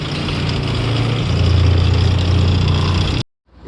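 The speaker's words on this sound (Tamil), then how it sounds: "வண்டி இன்னும் வரவில்லையே வண்டி வருது" Vehicle engine idling as it pulls in, a steady low rumble that swells gradually, holds loud and close, then cuts off abruptly near the end.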